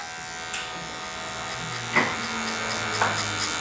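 An electric hair clipper buzzes steadily up close while cutting a low skin fade at a barber academy, with a constant motor hum and small shifts in pitch as the blade moves, with no talking.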